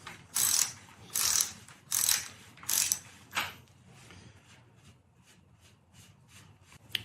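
A left-hand threaded bicycle bottom bracket is loosened clockwise by a tool, giving four close mechanical ratcheting bursts, then a softer trailing run of quieter clicks.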